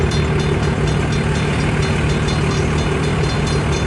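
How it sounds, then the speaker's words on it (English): A long CN freight train rolls past close by in Port Huron with a loud, steady rumble and a continuous low drone, no voices over it. "This train has to be longer than the one yesterday."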